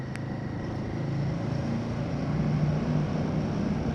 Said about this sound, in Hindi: टनल के अंदर तो भाई बाइक की आवाज़ डुक डुक डुक डुक डुक डुक अलग ही आ रही है